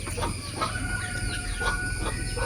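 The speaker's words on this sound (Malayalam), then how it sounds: "പിന്നെ നമ്മുടെ കരിങ്കോഴിപ്പൂവൻ കേട്ടോ." Farmyard roosters, among them a black Karinkozhi rooster, cluck and call in short repeated bursts close by over a steady low hum, with no voices.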